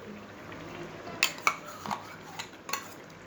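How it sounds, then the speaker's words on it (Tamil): Ground paste goes into a pot of boiled potatoes for egg gravy, heard as a few sharp metallic clinks and scrapes of a utensil against the pot over a quiet background. "அரைச்சி வச்ச அந்த பேஸ்ட்டை வந்துட்டு இப்போ உள்ளே ஊற்ற போகிறோம்"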